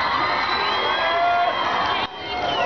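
A crowd of children cheers and shouts together at an outdoor Ukrainian Independence Day celebration in Berdyansk, a sustained, high-pitched roar of voices that dips briefly near the end.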